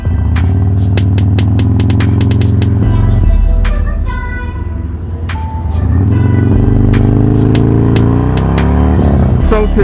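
A 2007 Harley-Davidson Sportster motorcycle engine runs loud and close with a throbbing low rumble, easing off midway before climbing again, with sharp clicks and knocks over it.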